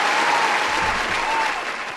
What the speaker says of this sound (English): Let's give a little applause for Fujimoto.